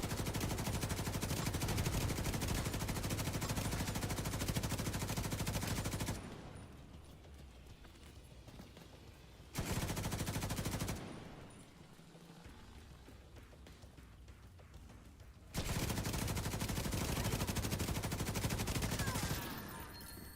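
Rapid bursts of gunfire from the video game The Division 2, loud and continuous, broken by two quieter stretches before the shooting resumes.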